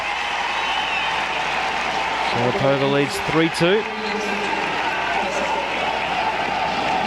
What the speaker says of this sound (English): you can just hear the crowd still buzzing after that great victory from Leighton Hewitt